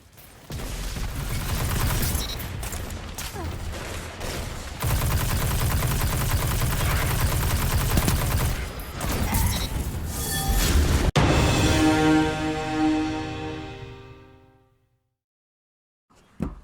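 Rapid legendary auto rifle fire at 720 rounds a minute in a PvP shooter game, loud and sustained for about eleven seconds, then a trailing echo fading to silence with a brief click at the end.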